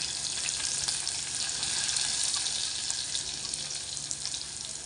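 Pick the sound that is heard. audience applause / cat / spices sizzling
spices sizzling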